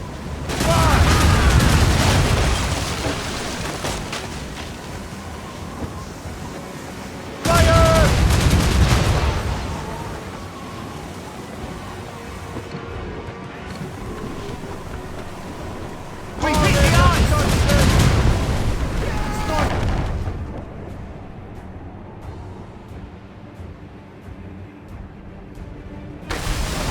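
Naval cannon broadsides from a sailing warship in Assassin's Creed Rogue, three heavy booming volleys of rapid overlapping shots, each decaying into a rumbling tail, with shouting crew voices between blasts.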